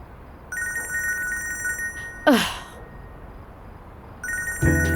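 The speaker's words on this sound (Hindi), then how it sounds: "फोन बज रहा है तुम्हारा।" A phone trills in short electronic bursts, pauses while a voice sighs or groans, then rings again before a thump near the end.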